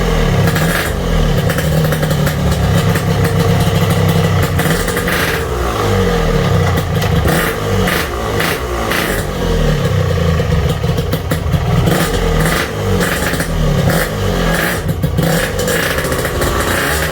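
Yamaha RX King motorcycle engine running steadily after a clutch modification, a loud, rough, continuous two-stroke rattle heard close up with no talk.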